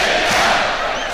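Dense football stadium crowd of fans at a Latvia v Wales European Championship match, a steady loud roar of many voices that may carry singing, holding level without breaks.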